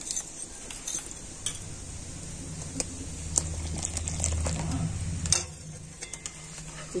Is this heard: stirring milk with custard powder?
yes